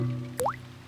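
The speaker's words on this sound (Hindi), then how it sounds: "डैडी पिग बूंदें इकट्ठा करने के लिए बाल्टी का इस्तेमाल कर रहे हैं।" In a Peppa Pig cartoon, a single water drop plops into a bucket with a quick rising bloop over a sustained musical tone.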